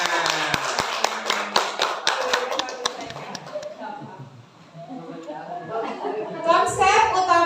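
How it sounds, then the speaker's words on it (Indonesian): People at a school positive-culture presentation clapping hands, a dense burst of sharp claps that thins out and gives way to talk, with voices rising again at the end. "Tepuk tangan."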